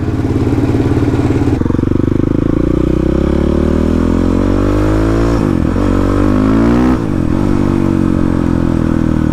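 A supermoto motorcycle engine runs loud and close just after starting, idling with a rough rhythmic pulse and rising and falling in pitch as the revs change.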